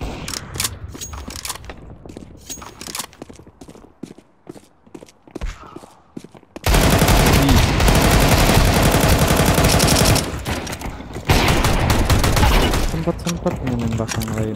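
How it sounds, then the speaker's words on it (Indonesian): Gunfire from a Counter-Strike 2 deathmatch on the Vertigo and Mirage maps: scattered single shots give way to long, loud bursts of rapid automatic fire with brief pauses, while someone talks over the action. "Sempat menembak yang lain."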